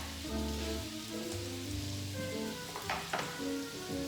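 Lamb sizzles in a hot pan, a soft continuous crackle and spatter with a few sharper pops, fairly quiet beneath steady background music.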